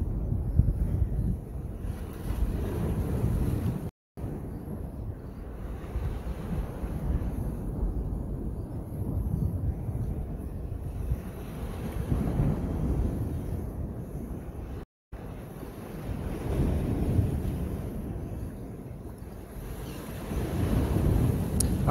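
Wind gusting across a seawall at Boca Grande, a steady broadband rush with low rumbling buffets against the microphone, sustained and loud throughout with two brief dropouts.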